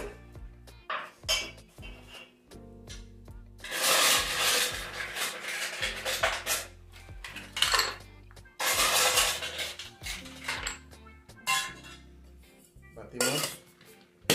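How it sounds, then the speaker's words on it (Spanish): A Painkiller cocktail is shaken hard with ice in a metal shaker, bursts of rattling, clinking ice that start and stop in uneven bouts, close and loud against a quiet room. "vamos ahora a agregar el hielo y vamos a batir"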